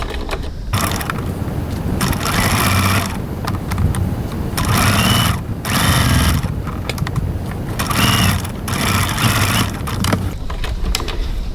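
A sewing machine runs in bursts, stitching close to the folded seam edges of a pocket at a 3.4 stitch length, loud and close. Several runs of steady mechanical whirring are separated by short pauses.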